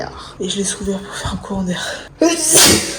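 A woman's sneeze bursts out loud and close at the end, after French speech in a warm indoor setting; a sharp, bright noisy burst rising above the preceding talk.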